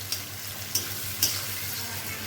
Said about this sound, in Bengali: এখন এটাকে খুব সুন্দর করে ভাজা ভাজা করবো